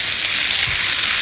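A garlic clove frying in a pan with oil, a steady close hiss of sizzling with a faint scrape of stirring partway through.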